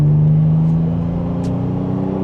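A naturally aspirated Toyota 4Runner engine accelerating gently. Its steady mid-pitched drone climbs slowly and stays loud and close throughout, with no talking.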